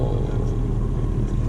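Bentley Continental GTC engine out on the road, a steady low rumble of engine and road noise running continuously at fairly loud level, with no distinct revs.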